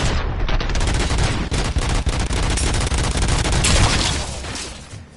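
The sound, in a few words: gunfire in RoboCop: Rogue City video game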